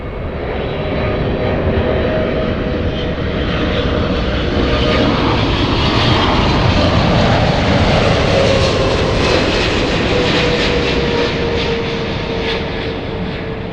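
A jet airliner roars steadily on approach to land on runway 24 right at Los Angeles airport, a loud, continuous broadband engine rumble and whine that swells slightly mid-way and holds throughout.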